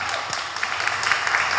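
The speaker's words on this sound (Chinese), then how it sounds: "再给他们一个掌声啊！" An audience gives applause to Keelung customs staff at a city council visit, a dense, steady wash of clapping close by, lasting the whole short moment.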